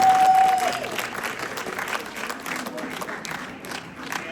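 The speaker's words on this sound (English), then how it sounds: "Another round of applause for" A room full of people gives a round of applause at a bill-signing event with the governor present, a dense, moderately loud clatter of clapping that starts strong and slowly thins.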